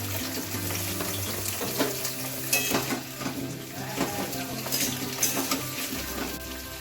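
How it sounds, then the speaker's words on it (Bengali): Moong dal dry-roasting in a pan in a home kitchen, with repeated scraping and clinking from stirring over a steady low hiss. Close and moderately loud, with no talking. "মুগ ডালটা ভাজা করতেও বসিয়ে দিয়েছি।"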